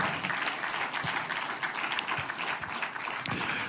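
An audience claps to welcome a guest onto a stage at a State of the Nation event, producing a steady, dense wash of applause that continues evenly throughout.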